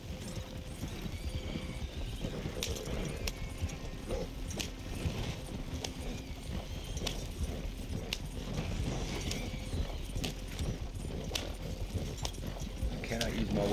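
Horse-drawn wagon rolling along in the video game Red Dead Redemption 2, with steady hoof clip-clop and creaking, rattling wheels and harness under a continuous bed of game ambience.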